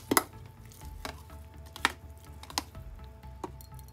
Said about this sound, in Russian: Перемешиваем.